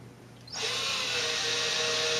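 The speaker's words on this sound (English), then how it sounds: "At that 10-foot spot, I'll drill an 1/8" hole." A power drill whirs to life after a brief quiet moment and keeps spinning steadily at high speed drilling a 1/8-inch hole, close and loud.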